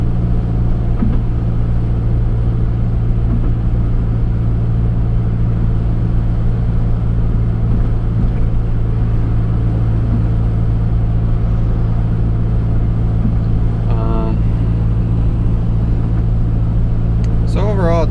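A V6 SRT4 car engine rumbles at a steady low idle with launch control engaged, a deep constant drone held throughout while a person talks over it, with brief louder bursts near the end.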